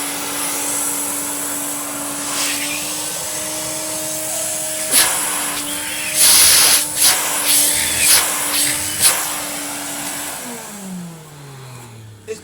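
Electrolux Automatic 345 vacuum cleaner running on carpet, a steady loud whine with brushing and rubbing bursts partway through before the motor pitch drops as it winds down.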